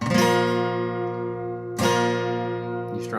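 Two full guitar strums, one with the fifth string muted, each ringing and slowly fading, the second following after about a second and a half.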